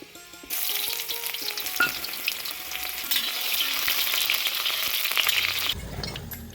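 Onion and garlic frying in mustard oil in a kadhai, a steady, close, loud sizzle that starts abruptly and holds evenly before cutting off near the end.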